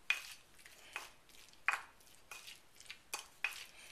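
A utensil stirs chunky guacamole of avocado and paste in a bowl, making soft wet scrapes and light clicks against the bowl in a loose, repeated rhythm, close and quiet with no talking.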